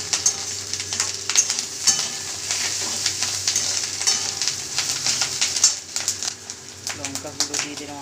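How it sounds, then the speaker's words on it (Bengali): Fish roe frying with turmeric and salt in a pan gives a steady, close sizzle with crackles and occasional stirring scrapes, and someone speaks over it. "এটাকে ভালো করে ভেজে নেব।"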